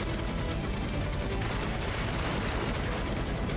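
Rapid gunfire rattles on continuously in a shooting minigame in the video game Final Fantasy VII Rebirth, a dense, steady stream of shots at moderate level with no pauses.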